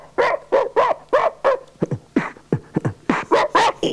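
A man vocally imitates a dog, producing a rapid series of barks, yips and whimpers in a rhythmic run, loud and close with no other sounds.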